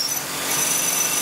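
A Tormach PCNC machine drills holes in a crankcase cylinder base flange, giving a steady, high-pitched whirring cut that runs close and continuous without any talk.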